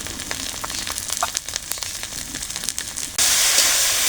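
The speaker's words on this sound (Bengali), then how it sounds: "পেঁয়াজ রসুন দিয়ে মশলা বাটা মশলাগুলো দিয়ে কষিয়ে নিয়েছি" Onion, garlic, ginger and cumin spice paste with turmeric fries in a pan for a water lily stem curry, a close crackling sizzle that jumps into a loud, steady hiss near the end.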